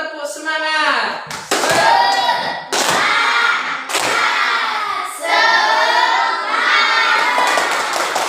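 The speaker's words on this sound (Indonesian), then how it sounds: "Coba 1 kali tepuk semangat." A classroom of children chant the 'tepuk semangat' clapping routine together, loud shouted voices broken by sharp bursts of rhythmic group clapping, close and lively, with brief pauses between the sections of the chant.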